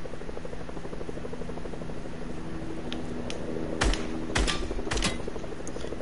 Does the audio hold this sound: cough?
no